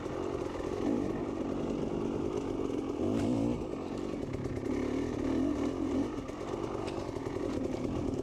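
Dirt bike engine racing the opening lap of an AMSA Xtreme course, droning steadily and loud throughout with rough revving surges and clattering, no talk.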